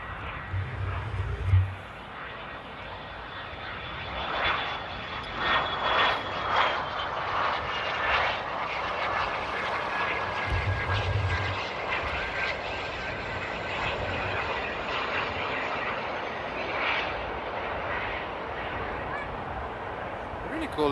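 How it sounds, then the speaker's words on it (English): A small Mustang propeller plane drones steadily through its approach at a large airport on a stormy day, its engine hum broad and continuous. Wind and a couple of low thumps sit beneath it, with people talking over the sound. "Really cool little plane, and that was actually a really smooth approach."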